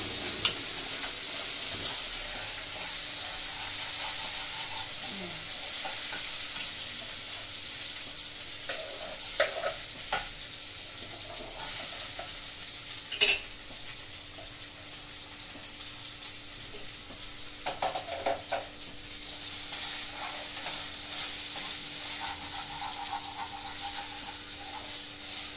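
Chicken pulao masala frying in a pan gives a soft, steady sizzle with occasional stirring scrapes and clinks, fairly quiet and close, with no one talking.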